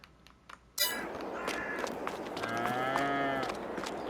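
Cattle in the Farming Simulator 22 video game give a drawn-out moo after a sudden burst of farmyard ambience, with a low, steady bellow rising out of background noise near the middle of the clip.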